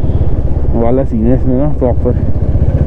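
A motorcycle fitted with an illegal aftermarket exhaust runs while being ridden, giving a steady low engine drone that sits beneath someone talking continuously over it.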